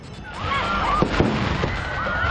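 Fireworks display in the night sky over Oroqueta City, Misamis Occidental, during a celebration where fireworks veered into the crowd; steady crackling and whistling with a few sharp pops over a dense crowd din.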